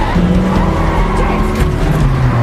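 Car engine revving hard with tire squeal during a James Bond film chase scene, loud and close over a dense movie soundtrack, with brief voices underneath.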